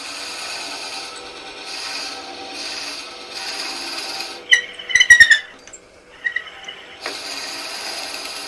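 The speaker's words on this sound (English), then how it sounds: "We'll use a 7/8 Forstner bit to drill up into the bottom of this." A 7/8 inch Forstner bit drills into the bottom of a wooden gnome ornament for woodturning, giving a steady close grinding rasp in long bursts, broken by a pause of squeaks and knocks before drilling resumes.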